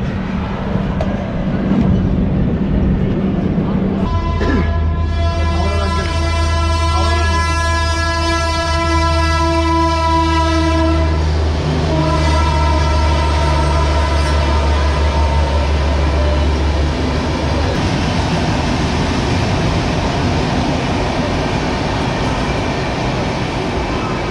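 The Howrah Jodhpur Express pulls into Tumla junction in the evening, its horn sounding long and loud with strong tones while the train rumbles and clatters steadily nearby.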